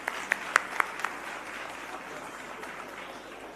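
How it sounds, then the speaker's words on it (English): A handful of sharp, scattered claps from an audience at the Africa Rail event greet South Africa's Minister of Transport, fading quickly into a steady hall murmur. "Please could we give her a warm round of applause."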